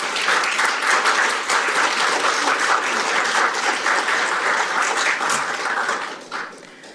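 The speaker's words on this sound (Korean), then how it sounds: "우리 내빈 분들께서는 큰 박수 다시 한번 부탁드립니다." Guests at a National Assembly maritime forum applaud during a declaration ceremony, a dense, sustained round of clapping from a sizeable room that holds steady and then tapers off near the end.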